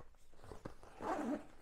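A zipper opening on a faux leather carrying case for a DJI Mini 2 SE drone, a brief close rasping pull after a few small handling clicks.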